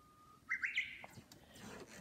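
A human voice imitates a chirping bird with a short, high rising whistle-like tweet, heard once and faintly, followed by quiet noise.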